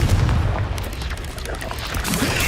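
Confringo spell blast in the Hogwarts Legacy video game: a heavy, rumbling boom that fills the whole clip with a dense, sustained roar, with faint voice-like sound beneath it.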